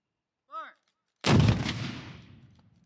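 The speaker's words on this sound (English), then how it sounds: "Gunman 1 ready." A historic cannon fires a single booming shot at Old Fort Jackson in Savannah, Georgia, loud and sudden with a rumbling decay, preceded by a brief shouted command.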